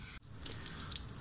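Flush water drains from a Mercedes W202 radiator during a LAVR cooling-system cleaning, a steady, faint splashing pour with no break after a brief dip at the start.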